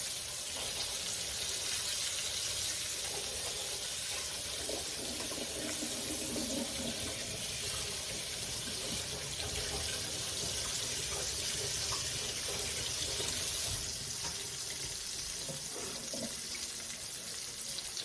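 A tap runs steadily in a home kitchen while hands are rinsed, a continuous close hiss of water lasting throughout with faint clatter beneath.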